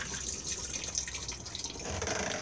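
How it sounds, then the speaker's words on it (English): Water rushing and trickling as a cassette toilet flushes inside a Bailey Unicorn Madrid caravan, a steady close wash of liquid lasting throughout with no talk. "push to flush on the blue button just here."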